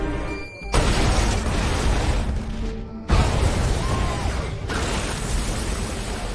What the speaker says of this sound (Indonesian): Ia pun meledakkan bom yang sudah dipasang di kafe